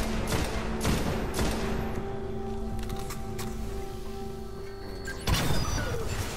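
Gunfire from the shooter video game Destiny: several sharp shot bursts and rattling volleys crack out over a steady rumbling game backdrop, with a loud new burst near the end.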